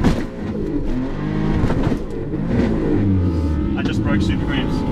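A car launching hard from a drag start line, its engine roaring loud and close as it accelerates, with a voice talking over the engine noise.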